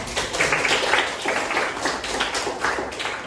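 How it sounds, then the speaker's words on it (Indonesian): A class of pupils applauding together in an Indonesian school lesson, a dense, steady patter of many hands clapping at once for about three seconds, fairly close and with no talk over it. "Tepuk tangan kita semua."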